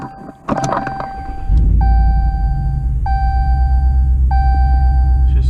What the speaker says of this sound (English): we're going to start the truck here